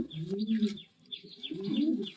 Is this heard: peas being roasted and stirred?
no